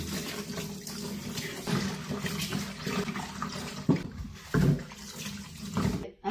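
Tap water runs over food being washed, a close splashing flow that surges and breaks into uneven bursts and gurgles, then cuts off abruptly at the end.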